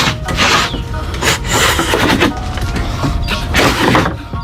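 Miter saw cart rolled across a shop floor, a loud close rumbling, scraping rub of wheels and wood that surges and fades in uneven pushes.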